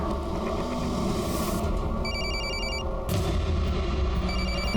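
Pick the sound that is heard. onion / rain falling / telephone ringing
telephone ringing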